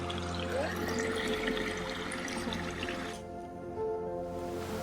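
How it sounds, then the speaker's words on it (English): Steady rushing water flows continuously, broad and textured, with a slight dip midway before resuming at an even, moderate level. "I don't know if you're able to hear the sounds of the water flowing."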